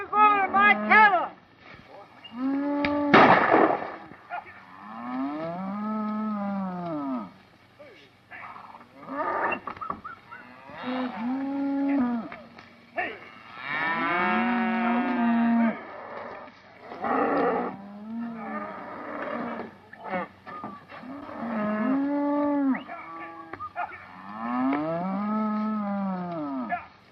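Cattle moo and bellow repeatedly, long drawn-out lowing calls rising and falling over about half a minute, loud and close.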